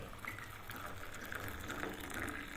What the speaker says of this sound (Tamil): பால் கலந்து வச்சுருக்கிறதுல டீயை ஊற்றுறேன்